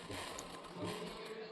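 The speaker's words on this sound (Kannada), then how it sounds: "ರಾ ಎಡ್ಜಿಗೆ ಇಟ್ಬಿಟ್ಟಲ್ಲಿ ನಾನು ಸ್ಟಿಚ್ ಮಾಡ್ತಿದ್ದೀನಿ." A sewing machine stitches piping onto a blouse neck edge at a quarter-inch seam, producing a faint, steady mechanical whir with a rapid needle rhythm throughout a brief stretch.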